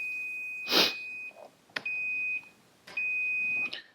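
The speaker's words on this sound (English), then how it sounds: "and you can hear the beep." A multimeter on continuity test gives three steady electronic beeps, each about half a second to a second long, separated by short gaps and preceded by a brief rustle, while checking a bolt on the ground side of a car's air conditioning compressor circuit.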